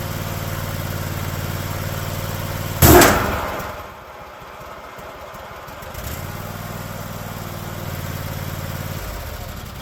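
Cub Cadet 1050 Hydro lawn tractor with its mower blade engaged, a steady close engine drone broken by a sharp burst of noise, then a drop and a return to a steady run.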